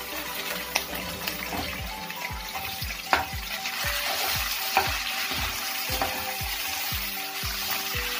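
Grated tomato and green chili fry loudly in a pan while a mixed cabbage, potato and lotus-stem dish is being cooked, giving a steady sizzle broken by repeated spoon scrapes and knocks at a fairly even rhythm.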